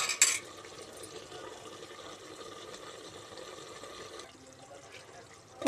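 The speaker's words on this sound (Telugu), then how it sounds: "ఇప్పుడు వాటర్ పోసుకుందాం" Water is poured into a mutton curry in a pressure cooker, giving a steady, moderately loud pouring rush that runs for about four seconds before fading, followed by a brief clatter at the end.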